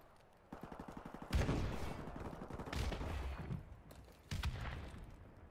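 Gunfire in Call of Duty, with a rapid automatic burst followed by several loud, sharp shots and bursts in quick succession, close and punchy against a quieter background.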